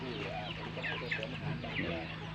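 Chickens cluck and chirp softly nearby in a steady, busy chatter, with a faint voice underneath.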